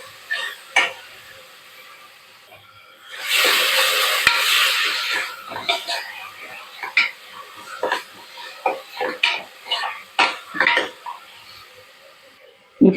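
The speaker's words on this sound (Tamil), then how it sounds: "இப்போ இந்த ஸ்டேஜில் இஞ்சி பூண்டு பேஸ்ட்டு போடுறேன்." Homemade ginger garlic paste hits a hot pan for chicken biryani and sizzles in a loud burst, followed by a run of scraping stirring strokes close by.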